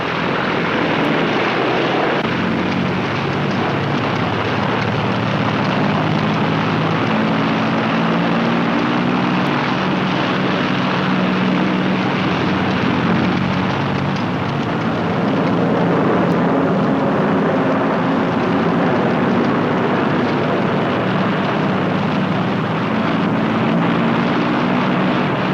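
Propeller engines of World War II bombers drone loud and unbroken for the whole stretch, a dense, throbbing roar with no voices over it.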